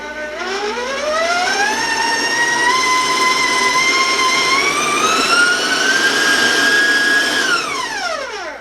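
Electric stand mixer running on high speed while mixing raisins into oatmeal applesauce cake batter, a loud continuous motor whine that climbs in pitch as it speeds up, holds steady, then winds down at the end.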